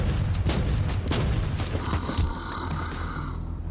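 Exitus Rifle shots in Warhammer 40K: Inquisitor - Martyr, a few heavy booming reports spaced about half a second apart over a dense background of combat noise.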